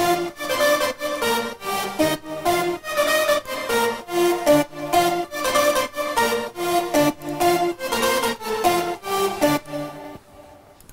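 Stacked synth lead melody layering two or three Arturia patches with a real Moog in an electro house drop, bright rhythmic chopped notes pulsing steadily for about ten seconds before cutting off into near silence.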